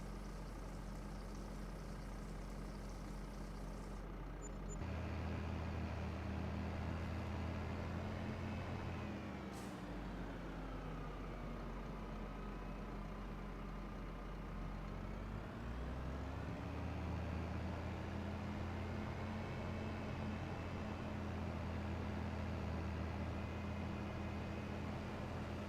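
Engine of a Bent Xylon reskin tractor in Farming Simulator 25, a steady low diesel drone that idles, then rises and falls in pitch through the middle as it revs, running alone and fairly loud throughout.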